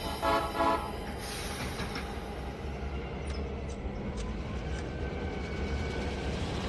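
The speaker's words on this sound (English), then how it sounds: "we're going to see if we can just back this unit onto this train." A railroad locomotive in a train simulation backs slowly onto its train, a steady low rumble of engine and rolling wagons with a short horn toot near the start.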